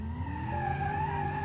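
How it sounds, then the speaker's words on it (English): Tires squeal in a sustained skid as a four-wheel-drive V8 family car does donuts in BeamNG, a loud close wail with shifting pitch over engine roar, no talking. "The car does great donuts."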